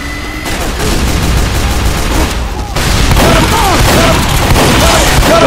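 Rocket explosions in Team Fortress 2, loud booms and blasts mixed with steady gunfire in a busy fight, with a voice talking over the chaos.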